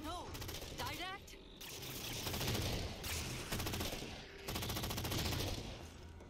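Rapid gunfire from weapons in the video game Halo 4, loud bursts and steady volleys running through the whole stretch, mixed with game effects and music.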